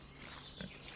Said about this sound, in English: Yeah, it's a pig.